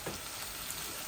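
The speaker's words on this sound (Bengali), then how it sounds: "আমার টমেটোগুলা আলুগুলা ভাজা ভাজা হয়ে যাক" Tomatoes and potatoes frying in a pan for a Bangladeshi pabda fish curry, giving a soft, steady sizzle with faint crackle throughout, close and quiet with no talk.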